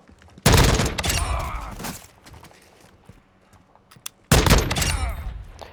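An FTAC Recon rifle firing in Call of Duty Modern Warfare II: two loud, close single shots about four seconds apart, each with a sharp crack and a rumbling tail, with quiet gaps between.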